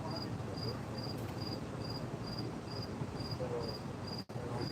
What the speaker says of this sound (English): You can hear the crickets going.